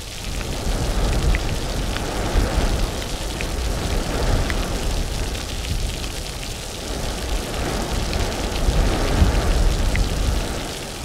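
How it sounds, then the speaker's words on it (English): Steady rain pours onto a sailboat at sea in foul, windy weather, a dense continuous hiss of drops with wind noise, fairly loud throughout and without any voices. "With windy conditions, and now even rain."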